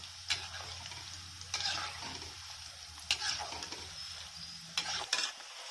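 Onion pakoda frying in oil over a medium flame, a soft continuous sizzle broken by several brief louder bursts of bubbling and stirring, close and quiet with no talk.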